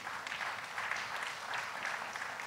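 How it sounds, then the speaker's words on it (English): An audience at a public discussion forum gives a round of applause, steady moderately faint clapping from many hands sustained throughout. "we deserve to give ourselves a round of applause"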